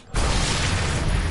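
A sniper rifle headshot in Sniper Elite 3 opens with a sudden loud boom after a short quiet start, followed by a sustained heavy rumble that holds steady through the rest of the moment.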